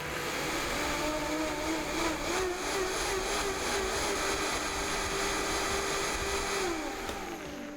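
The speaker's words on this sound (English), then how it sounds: "And you're going to blend until completely smooth." A blender whirs steadily as it purees soaked cashew nuts, a loud, continuous motor drone with a constant pitch that winds down near the end, no voices.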